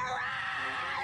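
An old woman in a film screams in a bathroom on a plane, a single sustained, shrill scream lasting about a second, loud and close.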